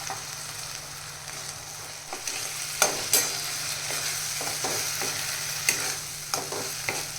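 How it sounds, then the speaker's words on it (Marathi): Green masala paste frying with sprouted moth beans in a pan, a steady soft sizzle broken by scattered scraping stirs and sharp clicks of a spoon against the pan. "हे वाटण आपल्याला ह्याच्यामध्ये आता मस्त फ्राय करून घ्यायचं"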